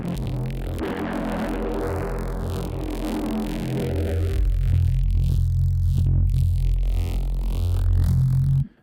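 Thick, rumbly neuro bass synth with filtering and distortion churns loudly, its gritty harmonics warping and sweeping while the heavy low end grows stronger midway before cutting off sharply at the end.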